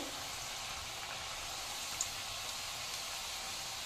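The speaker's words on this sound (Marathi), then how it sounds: "आता मी गॅस बारीक गॅसवर याला छान मस्त गोल्डन अशा तळून घेते" Chakli made from bhajani flour frying golden in hot oil over a low gas flame, a steady soft sizzle with fine bubbling crackle that stays even and fairly quiet throughout.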